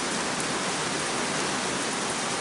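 Heavy rain pours down steadily and loudly, a dense, unbroken hiss with no voices, water streaming into a bucket nearby.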